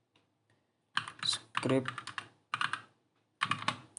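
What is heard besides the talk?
typing commands on a computer keyboard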